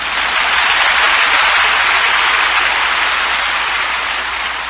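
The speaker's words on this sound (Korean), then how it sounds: "아, 한번 힘차게 박수합시다." A congregation in a church applauds vigorously during a sermon, a dense and loud wall of clapping that holds steady for the whole stretch.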